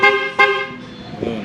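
Horn of a Yamaha NMax scooter sounds during a test after a corroded terminal was repaired: a loud honk, a short gap, a second sharp honk, then a weaker, lower blip near the end.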